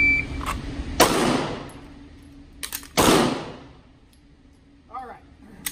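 Two pistol shots fired on a shot timer drill, each a sharp, loud crack about two seconds apart with a ringing tail, followed by faint clinks and a short electronic beep near the end.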